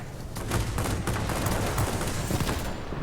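Me 262 jet aircraft in World of Warplanes firing rockets, a dense, continuous barrage of loud rapid blasts and booms throughout the brief stretch.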